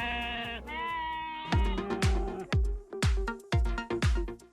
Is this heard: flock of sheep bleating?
yes